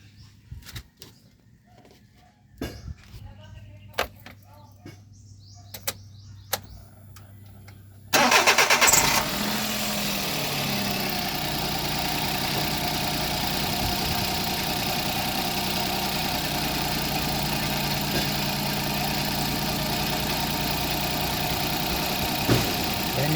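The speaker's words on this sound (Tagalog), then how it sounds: "smooth naman po yung takbo ng makina natin" A minivan engine cranks and starts after an ignition coil replacement, then settles into a steady, smooth idle close by. Clicks and faint birdsong come before it, and there is no talking.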